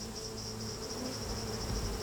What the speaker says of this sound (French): ici j'ouvre la ruche, hein, on voit les abeilles dedans.